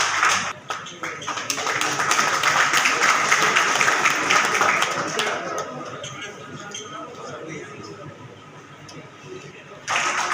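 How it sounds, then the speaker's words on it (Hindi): Loud applause from a crowd at a bar association event in Agra welcomes a speaker. It swells into a dense, sustained clatter, then slowly thins out, with voices and chatter mixed in. "जोरदार तालियों से"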